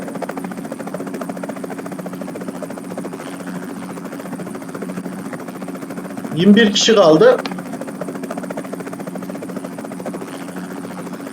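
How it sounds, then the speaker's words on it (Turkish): A helicopter in the video game PUBG Mobile drones steadily and loudly throughout, a constant buzzing rotor hum, with a voice briefly talking over it midway. "Var, helikopter gidiyor. Helikopter var."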